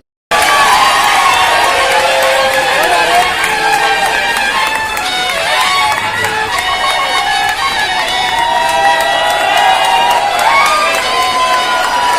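A loud, dense crowd roars and cheers steadily for about twelve seconds as councillor Raja Bhai is welcomed at a local gathering, with excited high-pitched shouts and voices mixed throughout and no clear break in the noise.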